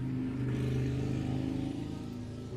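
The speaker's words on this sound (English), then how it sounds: "Lovely motorcycle going on in the background if you can hear that." A motorcycle engine drones steadily in the background, a continuous mid-pitched hum that swells slightly and then eases off as it passes at a moderate distance.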